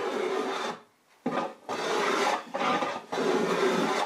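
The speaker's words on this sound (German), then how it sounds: "Wir verwenden dafür einen Reformputzhobel. Der macht ganz feine Späne" Long rasping strokes of a smoothing plane taking very fine shavings across wood, repeated in a steady rhythm with short pauses between passes, close and clear.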